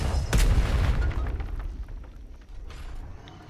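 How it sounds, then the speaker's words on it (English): Mortar round in a video game firing with a loud, deep boom followed by a rumbling low-end tail that fades over a few seconds, with a softer second thud later; no talking. "Alright, mortar can continue firing."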